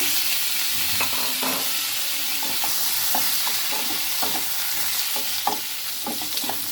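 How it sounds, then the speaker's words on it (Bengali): Potatoes and pointed gourd frying in a pan, a steady broadband sizzle running throughout with repeated close scrapes and clacks of a spatula stirring the vegetables. "আলু পটল সুন্দর মতো ভাজা হয়ে গিয়েছে"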